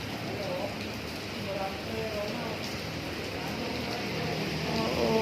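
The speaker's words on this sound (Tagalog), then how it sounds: "sobrang lakas ng ulan" Heavy rain pouring steadily outdoors near SM Calamba in Laguna, a dense continuous hiss of downpour with some distant traffic noise underneath, fairly loud and unbroken throughout.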